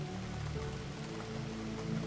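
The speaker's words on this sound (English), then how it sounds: "The rain continued its gentle lullaby through the night, a soft percussion" Gentle rain falls at night over a small farmhouse as a soft, continuous patter. A faint tonal drone sits underneath, and no one speaks.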